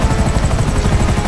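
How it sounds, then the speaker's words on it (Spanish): Loud, close helicopter rotor chop from GTA V on PS3, a fast steady thudding pulse layered over a roaring engine whine. "Aquí tenéis, chavales, el helicóptero."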